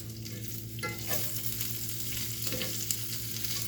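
Bacon frying in a pan gives off a steady, close sizzle and crackle, with a couple of brief utensil scrapes breaking through the continuous spatter.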